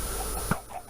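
A single chicken cluck from Minecraft Bedrock Edition pops up about midway, short and fairly clear over a steady game background hum.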